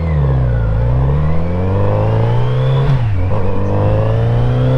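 A Kawasaki Z900RS motorcycle engine running loud and close, its pitch rising and falling steadily as it revs on a back road, with no other sounds over it.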